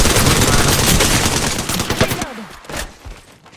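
Loud, close automatic gunfire in Apex Legends, a dense continuous rattle of shots that thins into a few scattered bursts and trails off toward the end, with no talk.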